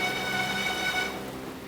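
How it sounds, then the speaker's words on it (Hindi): Heavy rain pours steadily in an outdoor drama scene, a dense, continuous hiss that is loud and close, with a faint tonal hum under it. "बहुत तेज बारिश हो रही है।"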